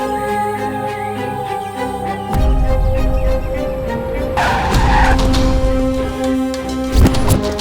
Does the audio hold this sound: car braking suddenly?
yes